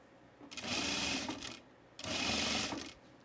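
Sewing machine stitching a pocket on a dress, two sustained bursts of steady rapid stitching, close and clear, with a short pause between them.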